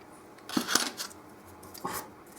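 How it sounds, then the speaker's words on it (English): A nut file works back and forth in the nut slot of a chambered-body electric mandolin, giving a few short, close scraping strokes separated by brief pauses. "So with the fret, with the nut file, just backwards and forwards a couple of times."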